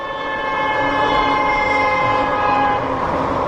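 Long sustained train horn blaring steadily for several seconds, heard from some distance outdoors near a forest preserve pathway, with a faint rumble underneath.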